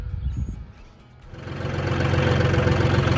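A farm tractor engine starts up and settles into a steady, loud idle with a low rumble while a crop sprayer is run for large-scale tomato growing; it builds from quiet over the first second and holds, with no talk.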